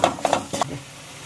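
Spoon stirring a chana chaat mixture with chaat masala and dry mango powder in a pan over a low gas flame: a few quick, close scraping strokes with a faint background hiss.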